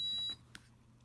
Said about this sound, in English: See, the alarm went off